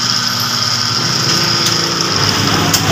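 A Mitsubishi L300 Euro 4 alternator with a faulty, scraping bearing spins on a test bench, giving a steady, close mechanical whine and hum with a faint rasp and no voices.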